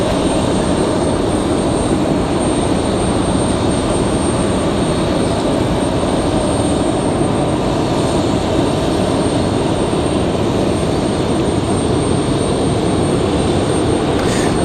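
A Sun Country airliner taxis at Raleigh-Durham airport with a loud, steady jet engine roar and whine that holds constant throughout.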